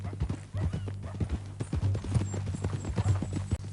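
Horse hooves clip-clop steadily and fairly close in Red Dead Redemption 2, a continuous walking rhythm over low ambient hum, with no talking.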